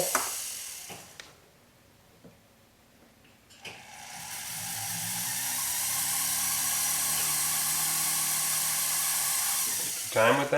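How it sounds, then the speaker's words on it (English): A power drill whirs steadily for several seconds, drilling a hole for diamond bar earrings, after brief clicks and quieter handling, then stops with a few knocks. "drill a hole."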